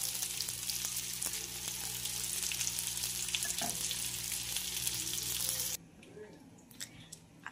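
Fish frying until crisp in a hot pan gives a steady, dense sizzle up close, briefly stirred, then cutting off sharply near the end to a quieter tail with a few light clinks.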